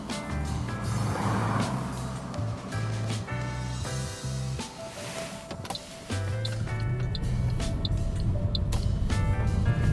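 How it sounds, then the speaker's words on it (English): A car pulls away from a parked position on the left side of the road during a driving test, its engine note rising, dipping briefly, then building again with cabin rattles and clicks close by. "So I'm going to be driving off from a parked up position on the left hand side."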